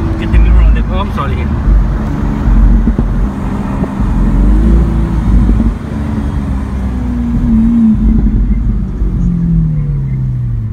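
Lamborghini Aventador engine pulling hard, a deep rumbling roar with rising pitch sweeps as it accelerates, loud inside the cabin with people talking over it.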